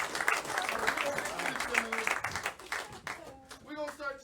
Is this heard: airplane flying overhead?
no